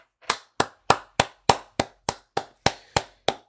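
Hand clapping, eleven sharp, evenly spaced claps at a steady rhythm, close and fairly loud with nothing else around them, from a football fan watching Manchester United play Brentford.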